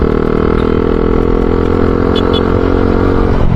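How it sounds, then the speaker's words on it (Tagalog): A manual-transmission motorcycle engine drones steadily and loud while downshifting at high revs, with a dense, constant roar throughout. "So downshift, ito tayo pababa."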